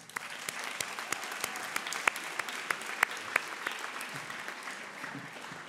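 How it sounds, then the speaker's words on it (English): An audience at a closing plenary session applauds steadily, a moderately quiet wash of many hands with a few sharper individual claps standing out. "Please give yourself a round of applause"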